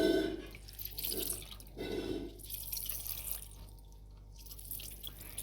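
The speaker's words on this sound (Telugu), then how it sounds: "ఆ క్లాత్ని బాగా పట్టుకొని ఆ వాటర్ అనేది పోయేటట్టు చేసుకోండి." Whey water drains from a cloth as homemade paneer is squeezed by hand, giving soft irregular drips and trickles close by, fairly quiet with no talking.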